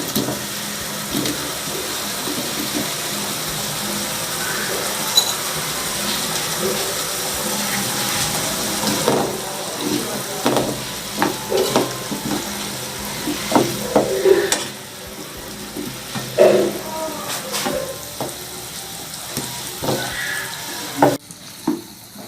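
Ghee sizzles steadily in a pan while lotus root sabzi is stirred, the constant frying hiss broken by scraping strokes and small clinks of the spoon against the pan, growing busier toward the end.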